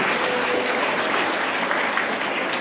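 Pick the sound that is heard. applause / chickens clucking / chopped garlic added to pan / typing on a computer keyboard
applause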